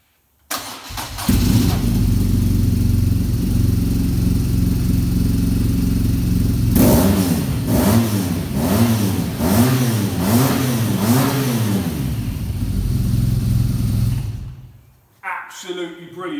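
A BMW R motorcycle fitted with aftermarket exhausts cranks and starts, settling into a loud, lumpy idle, then revs several times in quick pulses before dying down, with a voice briefly audible at the end.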